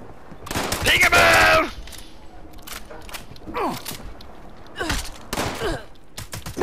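Gunfire in the Fallout 76 video game: short bursts of shots at close range, separated by quieter pauses, with other game sounds in between.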